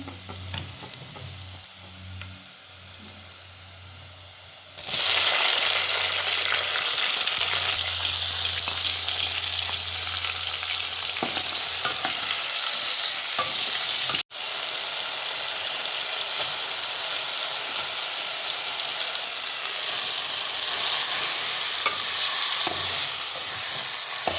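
Onions dropped into hot oil in a pan for tembele greens: a quiet start, then a sudden loud, steady frying hiss with a brief dip and occasional stirring clicks, no talking.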